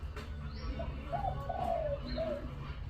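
Soft dove cooing, a few low rounded calls in a gentle sequence over a steady low background rumble, at moderate distance.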